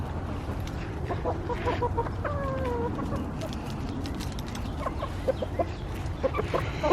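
Backyard chickens in a small city farm flock cluck and murmur steadily at close range, with brief higher calls rising over a constant low hum of outdoor background.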